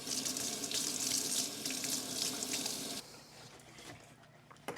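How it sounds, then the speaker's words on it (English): Tap water runs into a sink while dirt is rinsed and rubbed off tulip bulbs, a steady close splashing that quiets partway through as the flow changes. "give it a little bit of a rinse, rub some of the dirt off"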